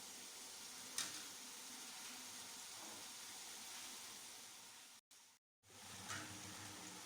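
Chicken pieces dropped into hot separated oil for bhai veetu style chicken biryani, giving a steady broad sizzle and hiss that runs throughout, with a brief cut-out near the end before the frying noise resumes.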